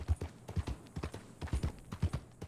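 Horse hooves clip-clopping in the Red Dead Online video game, a steady rhythmic series of soft thuds at walking pace, fairly faint and heard alone.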